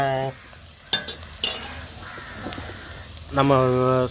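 Cumin powder stirred into shark fish puttu frying in a pan, with a scraping stir and steady sizzle; a crow caws nearby twice and voices speak over the cooking.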